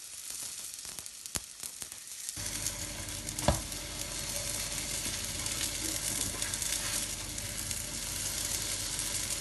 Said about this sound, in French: Et je surveille la cuisson. Donc je les retourne délicatement.